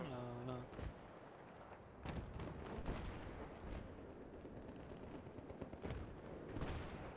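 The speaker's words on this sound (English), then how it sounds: "Those bullets are flying very close to my brain." Battlefield 3 battle sounds with gunfire and bullets cracking past, repeated sharp shots and booms over a constant rumbling backdrop, moderately loud, with someone speaking now and then.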